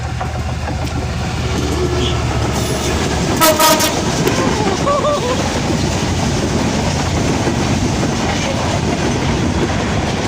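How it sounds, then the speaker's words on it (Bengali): A train rolling past at close range with a steady, heavy rumble and clickety-clack of wheels, broken by a brief blast of its horn partway through, with voices faintly underneath. "ট্রেনটা ভারত থেকে আইতেছে"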